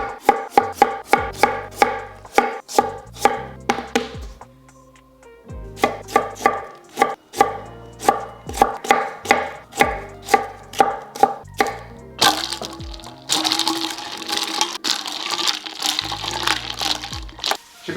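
A kitchen knife chops potatoes into fries by hand on a cutting board, giving rapid, even, sharp knocks in runs with brief pauses, then a denser stretch of faster cutting near the end, close and clear with no talking.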